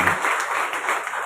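A church congregation claps in praise, a brief burst of dense, continuous applause from many hands filling the hall at a steady level.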